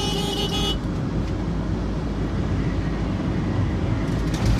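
A large truck passes along a road in Linden, Guyana, its loud, steady engine and tyre roar filling the whole stretch, with a brief horn-like tone at the start and no speech.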